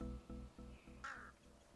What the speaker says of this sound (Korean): 까마귀 같은 게 엄청 많이 있고